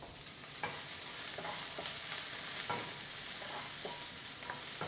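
Garlic and onion sautéing with black pepper in a pan for chicken curry, a steady sizzle broken by repeated spatula stirs and scrapes at an even rhythm, close by with no talking.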